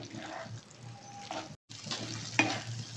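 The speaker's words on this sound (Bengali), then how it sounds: "এইবারে আমি পাস্তাটা দিয়ে আবার 2 মিনিট ফুটিয়ে নেব" Pasta cooks in a pan of sweet corn tomato sauce, bubbling and sizzling up close with soft stirring scrapes, a momentary dropout midway, then a sharper clink against the pan.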